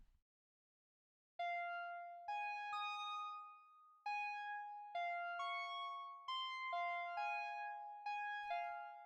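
Massive X synth lead on the All Strange preset, a sparse melody of clear bell-like plucked notes that ring and decay one after another, played alone after a moment of silence.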